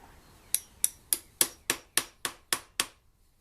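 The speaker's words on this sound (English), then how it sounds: "take the brass punch and make sure you center it perfectly on the end of the grip, and then smash it with the hammer" Nine sharp metallic hammer strikes on a brass punch set on the end of a motorcycle handlebar grip, evenly spaced about a third of a second apart, close and crisp with quick ringing decays.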